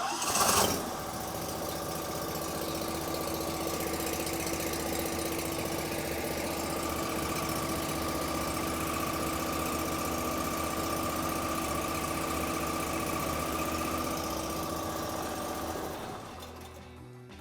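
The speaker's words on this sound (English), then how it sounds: "So we're gonna go ahead and start the mower" A John Deere Z735M zero-turn mower engine cranks, catches and settles into a steady, close idle that hums on evenly for a long stretch before cutting off.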